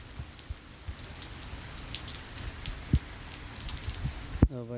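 Rain falling on fields in a village during a downpour at six in the morning produces a soft continuous patter with scattered louder drips and taps, heard alone without voices.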